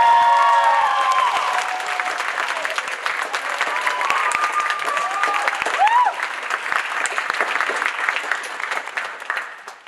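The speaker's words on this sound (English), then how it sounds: "Can we give our readers another round of applause" An audience at a senior class spring reading applauds warmly, with dense, sustained clapping from a full room. Faint voices and a few whoops rise through it before it slowly thins near the end.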